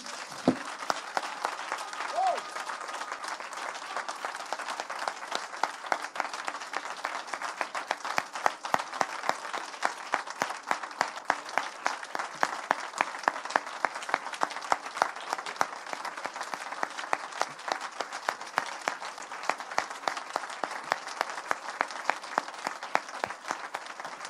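Steady applause from a church congregation praising God, many hands clapping together in a sustained, fairly rhythmic wave that fills the room for the whole stretch.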